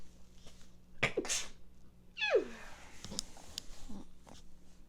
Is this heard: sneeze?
yes